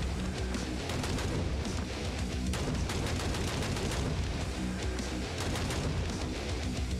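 Enemy gunfire in the video game Hellbound, dense rapid shots crackling continuously and loudly with no pauses, layered over constant game noise.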